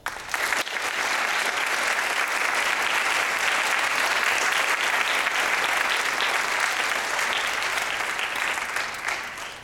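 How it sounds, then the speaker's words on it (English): Sustained applause from a large audience at an induction ceremony, loud and steady for nearly ten seconds before tapering slightly at the end. "Please give them a round of applause."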